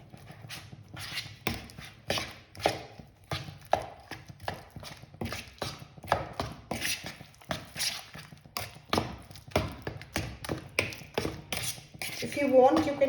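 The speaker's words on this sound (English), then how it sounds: "Mix it nicely." Potato crepe batter being mixed in a bowl with a utensil, repeated irregular scraping and tapping strokes against the bowl, fairly close and continuous, with no talk.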